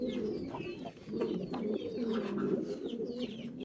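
Fancy Tiger House pigeons coo softly and repeatedly at close range, overlapping low throaty calls in a quiet indoor setting.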